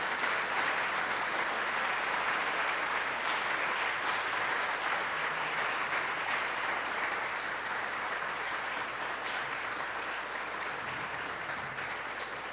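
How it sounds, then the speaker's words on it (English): Lecture audience gives a sustained round of applause for the fellows, an even wash of many hands clapping at a distance, holding steady and only slightly fading toward the end. "let's give another round of applause for our fellows."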